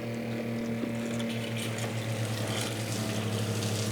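Pump pushing water up a vertical hydroponic grow wall, a steady electric hum under a constant rush of flowing water, close and unbroken.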